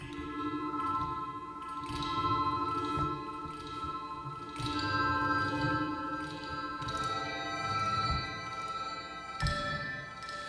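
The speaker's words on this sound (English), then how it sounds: "Then I came up with an instrument that I just called bowl ring." A sampled bell-like instrument called bowl ring plays sustained, shimmering metallic tones with overlapping ringing overtones and soft strikes, swelling back and forth quietly over about ten seconds.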